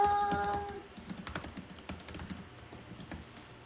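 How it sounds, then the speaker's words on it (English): Typing on a computer keyboard: quick, irregular clicks of keys close by. A short tonal chime rings out at the start, and no one speaks. "I know it's fascinating to watch someone type"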